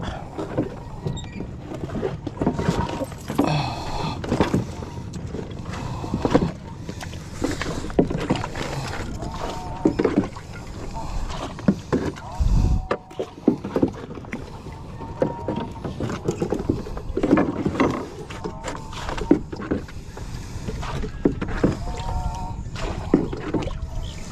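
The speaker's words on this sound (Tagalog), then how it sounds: "hihilahin na kami ng bangka." A steady motorboat engine drone runs throughout with water sloshing as the boat tows other boats along; voices talk intermittently over it.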